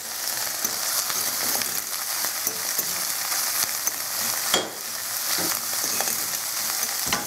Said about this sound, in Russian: Выливаю сейчас взбитое яйцо и быстро перемешиваю.